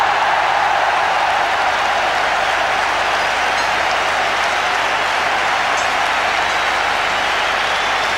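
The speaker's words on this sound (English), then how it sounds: "Listen to the crowd." Dense, steady roar of a cricket stadium crowd cheering a four by Sachin Tendulkar in an India vs Sri Lanka World Cup match, loud and continuous for the whole stretch with no voices standing out.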